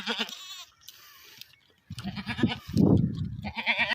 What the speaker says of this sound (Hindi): और राजनपुरी गुलाबी बकरी है।